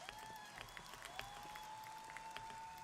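Audience cheering and applause from a played clip of a comedy or stage performance, a steady distant crowd roar with scattered claps and whoops throughout.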